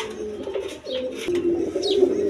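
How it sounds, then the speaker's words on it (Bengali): A pigeon held up for sale at a market coos softly up close, low murmuring calls repeating under a steady background hum, with a couple of faint chirps from other birds. "দেখেন একদম সুস্থ সবল কবুতর"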